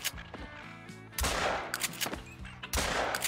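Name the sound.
gunshot while duck hunting in theHunter: Call of the Wild video game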